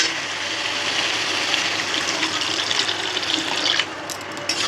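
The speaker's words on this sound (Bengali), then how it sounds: "অল্প ঝোল দেবো, বেশি দেবো না।" Liquid pouring steadily into a cooking pot as a little broth is added, a continuous close splashing rush that eases slightly near the end.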